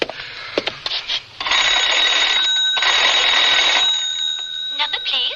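Telephone bell in a vintage radio drama scene, ringing in two long, loud, close bursts with brief gaps between them.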